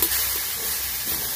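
Water spinach (kalmou shak) frying alone in a pan with no other ingredients, a steady close hiss of sizzling that stays loud and even throughout, with no talk.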